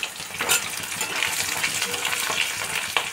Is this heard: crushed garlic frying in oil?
yes